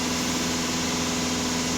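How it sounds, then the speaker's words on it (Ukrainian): VW or Skoda Euro 6 engine idling while running rich, a steady close mechanical hum with an even low drone and no voices. "Звук двигуна міняється"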